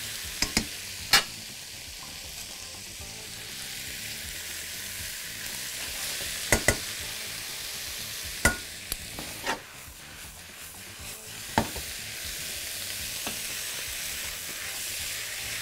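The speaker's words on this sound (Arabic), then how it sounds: "والفراخ اروحه كده سوتيه مع الخضار دوت على اساس ان كله ياخد الطعم من بعضه" Chicken sautés in a pan with peppers, onion and garlic, a steady, moderate sizzle with occasional sharp clicks and taps of a utensil against the pan, no voices.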